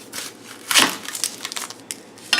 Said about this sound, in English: And cut off about 1 inch at the bottom.